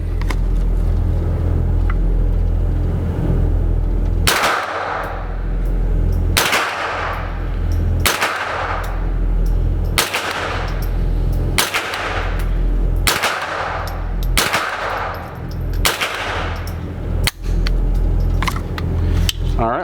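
Semi-auto shots from an AR-15 rifle fitted with a CMMG .22LR conversion kit, about eight sharp cracks spaced irregularly a second or two apart over steady outdoor background noise, close and loud.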